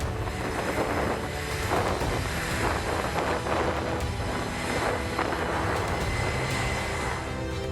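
Loud sustained roar of an F/A-18 fighter jet launching from an aircraft carrier deck, a continuous powerful engine rush with rumbling texture and scattered bursts, heard without speech.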